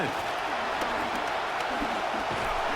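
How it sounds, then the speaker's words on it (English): A stadium crowd in the Madden 27 football video game, Eagles versus Commanders, roars as a dense, continuous wall of noise that stays loud and even, with faint cheers poking through. "What about this crowd getting even louder before 3rd and 10?"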